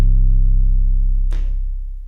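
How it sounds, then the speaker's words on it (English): A single 808 bass drum sample rings out as a deep, booming sustained tone that slowly fades, with a brief hissy click near the end, close and alone. "The way I did the bass line was I took an 808, which sounds like this"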